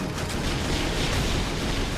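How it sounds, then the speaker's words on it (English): A dense, rumbling roar of explosions in the video game Jak 3, heavy low booms blending into a continuous loud barrage. "Explosions!"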